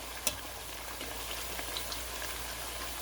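Thin sweet potato slices fry in hot oil with a dense, steady crackling sizzle that fills the whole stretch, close and even, with one sharp tick near the start.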